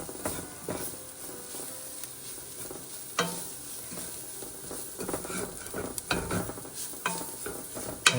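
Raw flour cooking in oil for a seafood chowder, stirred with a spoon in a pot, giving a steady soft sizzle broken by repeated scraping strokes and a few louder clanks of utensil on pot.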